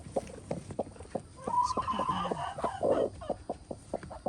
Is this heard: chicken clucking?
yes